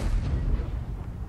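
A deep booming tank cannon blast with a low rumbling tail, loud and heavy, fired in World of Tanks, no talking.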